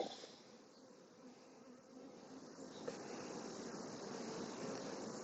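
A honeybee swarm gathered high up in a bee yard gives off a faint, steady buzzing hum, a soft continuous drone that swells slightly toward the end, with no speech.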